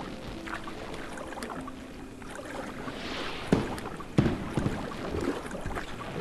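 A kayak paddled through water in the Kayak VR: Mirage video game, soft continuous water lapping and swishing with a few sharper splashes of paddle strokes, fairly quiet, with no talking.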